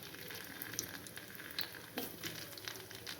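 Garlic fries gently in a pan with fennel seeds and star anise for egg curry, a faint, soft sizzle with a few tiny pops and crackles.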